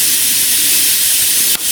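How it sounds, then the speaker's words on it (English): Hamburger patties seasoned with salt and pepper sizzle on a Wolfgang Puck 1000-watt panini press, a loud, steady hiss throughout, briefly broken by a single soft click near the end. "All right, sizzling already."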